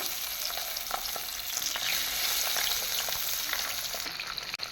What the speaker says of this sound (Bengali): এখন দিয়ে দেব মাছটা হালকা করে ভেজে নেব, কারণ পাবদা মাছ বেশি ভাজলে ভালো লাগবে না।